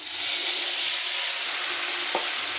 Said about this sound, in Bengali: মশলাটা তেলে ভাইজা নিব